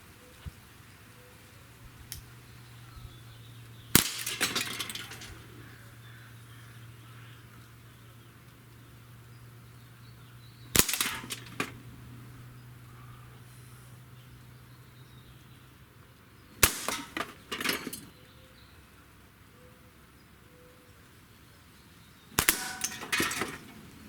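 Four sharp Walther CP88 air pistol shots crack out several seconds apart, each with a brief metallic ring, against a quiet hum.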